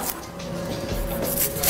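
A knife chopping a yellow onion on a cutting board in a kitchen, with a few soft, quick chops close by and a faint kitchen hum underneath.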